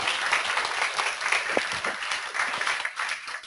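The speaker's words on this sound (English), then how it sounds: "Another round of applause for Wally." An audience applauds a speaker at a university talk, a dense, even wash of clapping from many hands that holds steady and thins slightly toward the end.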